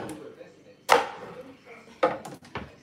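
A knife cuts into a very large watermelon with two sharp, loud broadband chops about a second apart, each followed by a cracking rind and quieter, lighter knocks between them.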